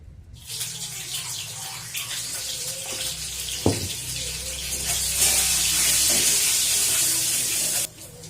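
Tap water runs steadily into a sink while new potatoes are washed, a continuous broadband splashing that swells louder toward the end before the flow stops abruptly, with a brief clunk partway through.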